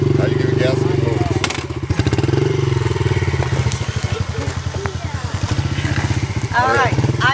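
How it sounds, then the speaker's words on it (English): A motorcycle engine revs under throttle as the bike rolls over gravel, a steady loud pulsing drone with crunching underfoot, while people talk nearby throughout. "Now you give it gas and it moves."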